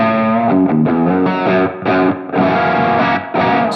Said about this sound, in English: I'm using the True Spring algorithm on the Ventris and this sounds like incredible to me.